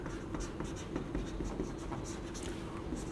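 Chalk or marker scratches steadily across a board during a Class 12 physics lesson on current electricity, a dense run of short strokes filling about three seconds at a fairly constant, moderate level with no talk.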